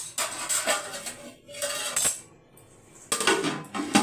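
A metal lid is set onto a cooking pot of drumstick-leaf and beans curry, with several clattering metallic clanks and scrapes in separate bursts, close and fairly loud, with quiet gaps between them.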